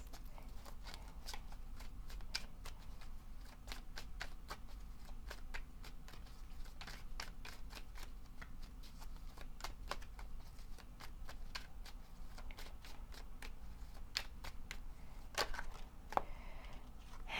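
Tarot cards being shuffled during a reading, a steady run of quiet, quick riffling clicks and snaps over low background hiss, with a few sharper taps near the end.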